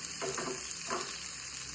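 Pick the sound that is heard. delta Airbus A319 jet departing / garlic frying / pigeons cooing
garlic frying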